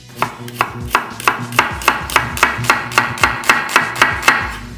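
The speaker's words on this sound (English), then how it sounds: "So I wanna go ahead and peel and julienne my onion." A knife julienning an onion strikes a cutting board in a fast, even run of about fifteen crisp chops, loud and close, with no talking.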